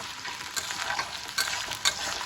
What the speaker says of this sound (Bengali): দিয়ে এবার এটাকে ভালো করে ভাজা ভাজা করছি।